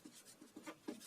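Chalk or marker writing on a board, a few quick faint scratchy strokes in a short burst, with no talk.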